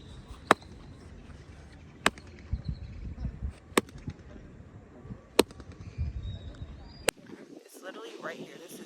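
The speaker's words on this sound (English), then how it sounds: "When we're hitting the ball, the walls produce that sound." A ball struck against stone walls gives five sharp, evenly spaced cracks, each ringing off in a short echo over a low background rumble.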